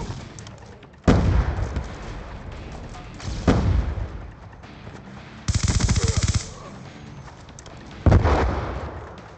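Bursts of heavy automatic gunfire and explosive blasts in a military video game, four loud broadband volleys separated by quieter gaps of rumbling ambience, with a brief radio-style voice calling out a grenade warning.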